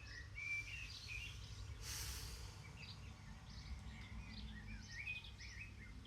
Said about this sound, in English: listening to the songs of the birds.